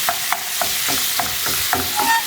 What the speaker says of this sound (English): So break the mince up.